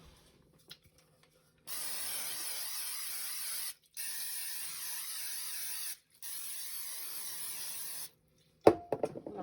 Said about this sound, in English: I'm going to spray my 3 pans with oil